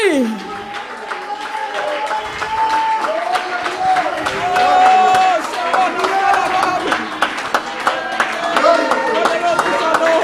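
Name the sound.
applause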